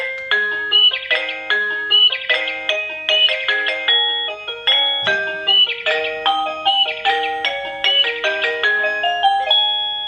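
Amazon doorbell chiming a festive holiday melody, a bright electronic tune of repeated plucked notes in quick rhythmic phrases, loud and clear with no talk.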